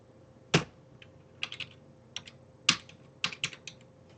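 Keys clacking on a computer keyboard while HTML code is typed, a few sharp isolated strokes and short bursts spread over several seconds, close and clear with a faint steady hum beneath and no talking.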